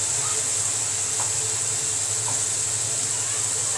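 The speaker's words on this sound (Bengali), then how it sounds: "মশলাটা ভালো করে কষিয়ে নিচ্ছি" Spice powder sautéing in a pan while a vegetable dish cooks, a steady close hiss of sizzling with a low hum beneath and a few faint clicks, no one talking.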